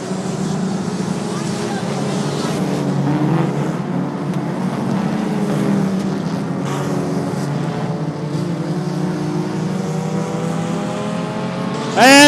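Super short track race cars come off a corner together, with loud engines roaring and shifting pitch as the pack passes, and a race announcer talks throughout.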